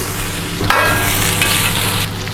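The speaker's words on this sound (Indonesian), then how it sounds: "saya tumis kentangnya terlebih dahulu supaya dia dapat satu sisi warna" Sliced potatoes and onions sizzling and frying in a pan, steady crackle with the scrape of stirring in the middle, close and alone.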